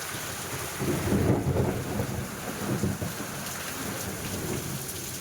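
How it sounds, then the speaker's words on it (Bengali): Heavy rain pours steadily throughout, with low rolling rumbles of thunder swelling in the first half before easing back under the downpour. "দেখো গাইস কি বৃষ্টিটা হওয়াটাই না হচ্ছে।"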